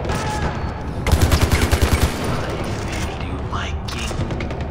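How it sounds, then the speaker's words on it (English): A loud burst of rapid automatic gunfire from a gun in the PC game Far Cry 4 runs for about a second, with roughly ten evenly spaced shots. Constant game ambience continues underneath, and a voice speaks over it. "the kick on this gun"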